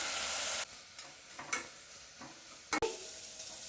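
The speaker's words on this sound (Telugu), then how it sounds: "పచ్చిమిర్చి ఉల్లిగడ్డ మంచిగా గోల్డెన్ బ్రౌన్ కలర్ వచ్చేంత వరకు వేపుకోవాలి." Green chillies and onions fry in a pan with a quiet steady sizzle, broken by a few scraping stirs and sharp taps of a utensil on the pan, close and without voices.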